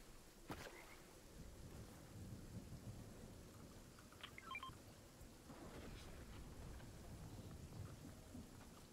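A thunderstorm with steady rain during fishing in the video game Elder Scrolls Online: a constant wash of rainfall throughout, with a sharp crack of thunder early on and low rumbling beneath, no voices.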